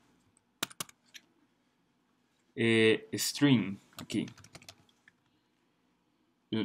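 Computer keyboard typing while writing C# code: a few sharp isolated key clicks, then someone speaks, followed by more scattered clicks in an otherwise quiet room.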